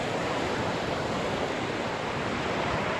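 Ocean surf rolling onto a beach at South Padre, a steady loud broadband wash of waves with no pauses, heard close and alone without talk.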